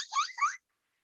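A parrot imitates a car alarm with two quick, warbling electronic-sounding whoops, close and clear, then stops abruptly into silence.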